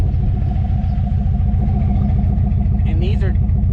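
A hot rod's engine rumbles steadily during a test drive, a loud continuous low drone with a brief higher whine near the end, filling the whole stretch.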